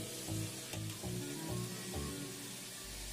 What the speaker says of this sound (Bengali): মশলাগুলোকে সবজির সাথে কিছুক্ষণ কষিয়ে নেব।